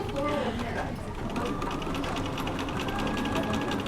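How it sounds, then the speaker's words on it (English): A sewing machine runs steadily in a fast, even mechanical patter while stitching and back stitching a hem on fabric, close and continuous throughout. "I'm going to sew a few stitches. And then I'm going to back stitch."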